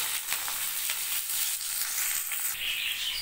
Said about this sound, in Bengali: দিয়ে দিলাম এতে কেটে রাখা আলুর টুকরো আর দিলাম কাঁচা লঙ্কা